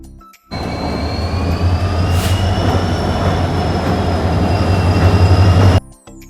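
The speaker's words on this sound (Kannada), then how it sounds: "ಇದು ತಾಳಗುಪ್ಪದಿಂದ ಮೈಸೂರಿಗೆ ಹೋಗುವಂಥ ಟ್ರೈನ್" Passenger train running from Talaguppa to Mysore, a loud, close, continuous rumble of wheels on rails with a low hum and faint squealing tones, starting and cutting off abruptly.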